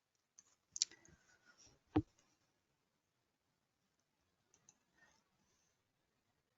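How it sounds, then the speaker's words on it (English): A few faint mouse clicks in a quiet room, with one sharper click standing out, then near silence broken by a couple of soft taps. "Then I click here on OK."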